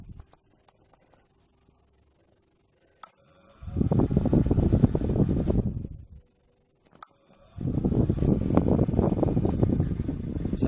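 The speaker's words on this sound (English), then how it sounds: "this fan is steadily blowing" A small fan on a BBQ PID temperature controller blowing, cutting in for two sustained bursts of airy whooshing a few seconds each, with click-like starts and near-silent gaps between them.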